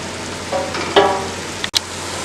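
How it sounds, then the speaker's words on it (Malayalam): Onions sautéing in a pan over a raised flame for Malabar chicken biryani, a steady close sizzle with a few stirring scrapes and a short clatter. "സവാള ഒന്ന് വഴന്ന് വരട്ടെ."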